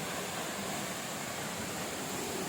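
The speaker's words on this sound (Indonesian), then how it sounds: "Air terjunnya kedengarannya keras sekali" Waterfall at Curug Pasir Reungit in Pamijahan, Bogor, a loud, steady, broadband rush of falling water that fills the whole span without any pause or voices.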